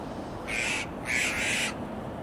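Wild birds perched near a roof, waiting for food, give two harsh, drawn-out squawking calls in quick succession, close and fairly loud over a low background hum.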